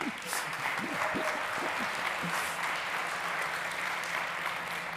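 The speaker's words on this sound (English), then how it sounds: "Big applause. Come on, everyone." A crowd at a startup stage claps at a summit's opening, a continuous wash of applause holding steady for several seconds, with a few faint voices and a brief whistle-like tone underneath.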